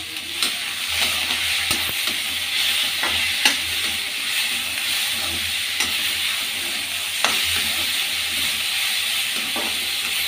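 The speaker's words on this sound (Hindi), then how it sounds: "इसमें हम थोड़ा नमक ऐड करेंगे जिससे कि टमाटर हमारा गल जाए।" Tomatoes cooking with salt in a pan for shahi paneer sizzle with a steady, even hiss, broken now and then by soft clicks of stirring, close and continuous throughout.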